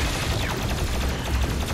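Missiles launching in the DOOM Eternal video game make a dense, continuous roar of rapid blasts and whooshes, loud and close throughout.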